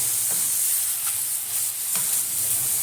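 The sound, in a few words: stirring spices in a frying pan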